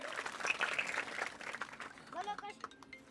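A school garba audience gives a short burst of applause at a Navratri event, a dense patter of clapping that fades quickly while a voice talks over it.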